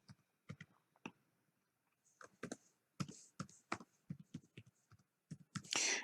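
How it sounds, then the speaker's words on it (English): Quiet typing on a computer keyboard, irregular bursts of key clicks with short pauses between them, close by. "So here I'm typing my email"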